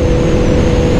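A Honda CBR650R motorcycle in 6th gear with the throttle released, its engine giving a loud, close, steady low drone with a constant hum and no shifts across the short stretch.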